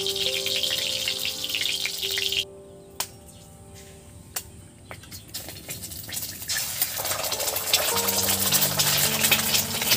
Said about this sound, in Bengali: ডিম ভেঙে একদম সোজা কড়াইতে, আর কুসুমটা একদম গোটা আছে